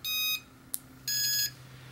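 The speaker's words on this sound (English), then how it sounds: "you heard the beep" A Feiyue FY-RX01 RC receiver binding to its transmitter gives two clear electronic beeps, each lasting about half a second, with a single short click between them, over a faint steady hum.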